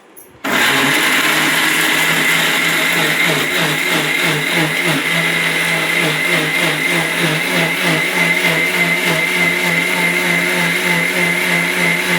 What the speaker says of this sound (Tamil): வறுத்து வச்சுருக்கிற மசாலாவையும் இதிலேயே கொட்டிடலாம் கொட்டிட்டு இப்போ நம்ம வந்து அரைச்சிக்கலாம்